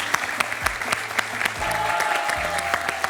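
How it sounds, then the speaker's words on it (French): Studio audience on a television quiz show applauds a contestant, a steady bed of clapping with sharper individual claps, while music and a host's voice sit underneath. "On peut applaudir Fabien qui est très sportif"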